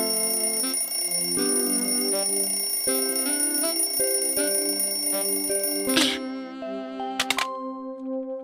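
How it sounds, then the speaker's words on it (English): A bright electronic alarm clock rings loudly in a repeating pattern, then cuts off abruptly with a couple of short beeps near the end. "Oh, the alarm clock."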